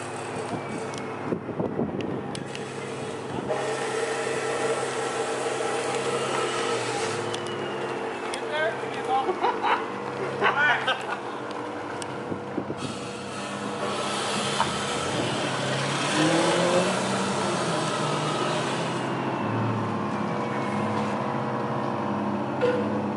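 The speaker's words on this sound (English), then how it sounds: "First time letting someone else drive the car." Bagged, stanced Infiniti G35 on Air Lift suspension being driven, a steady engine and road drone from inside the car with people talking over it.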